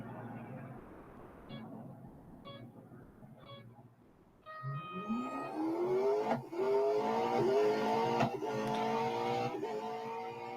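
Koenigsegg Gemera engine in a Real Racing 3 autocross event: quiet game sounds with a few short beeps, then a loud engine that revs up with steadily climbing pitch through repeated gear changes.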